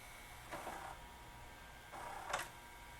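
A GoVideo GV4060 dual-deck VCR with a slipping belt tries to fast forward, giving two short, faint mechanical whirring bursts over a quiet background.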